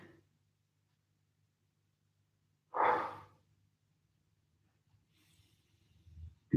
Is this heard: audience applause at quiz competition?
no